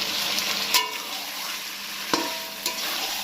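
Potatoes and yogurt-marinated chicken sizzle in a pan as a spoon stirs them, with a continuous frying hiss broken by three or four sharp scraping knocks against the pan.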